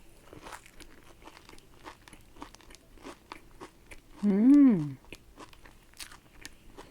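Crispy matcha and chocolate pain suisse pastry being bitten and chewed up close, a run of sharp crunchy crackles with a short hummed vocal sound in the middle.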